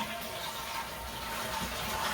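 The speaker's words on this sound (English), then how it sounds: "Let it drain down." Water rushes and gurgles steadily at a constant level as a running toilet's bowl drains and refills nearby.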